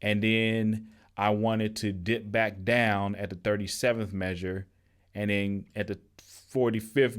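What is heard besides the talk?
No distinct noise like a dog, phone or traffic.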